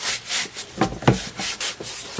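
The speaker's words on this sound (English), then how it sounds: "give it a good scrub with like I've got a pot scrubber, and it's a non-metallic one" A rusty meat hook gets scrubbed in soapy water with a non-metallic pot scrubber, producing loud, close, rhythmic back-and-forth rubbing strokes, about eight in quick succession.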